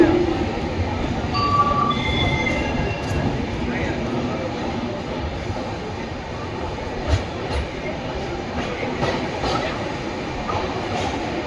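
Express train standing at a railway station platform while passengers board, with steady low rumble and hum throughout, a few faint squeals and clatters, and people talking in the background.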